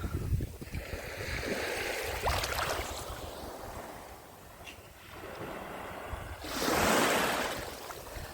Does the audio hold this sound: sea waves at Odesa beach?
yes